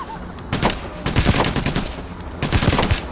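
Rapid gunfire in the heist shooter Payday: The Heist, sharp bursts of shots in two main volleys with brief gaps between, loud and close over dense in-game noise.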